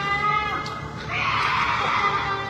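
A sharp, high, uneven scream-like cry, unlike a human voice, wavers and rises over a low background rumble, swelling louder in its second half.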